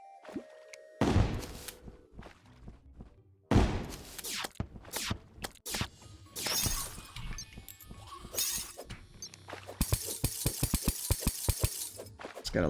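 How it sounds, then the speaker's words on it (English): Glass shattering in the game Terraria, bursts of breaking and clinking repeating through the stretch, ending in a fast run of sharp tinkling hits, loud and close with no talk. "Just gotta love that breaking glass sound."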